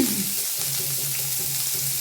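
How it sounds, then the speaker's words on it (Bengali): Carrots and mixed vegetables fry in a wok for chowmein, giving a steady low sizzle with faint stirring scrapes that stays close and even throughout. "এক এক করে আমি সব সবজিগুলো এখানে ভেজে নেব।"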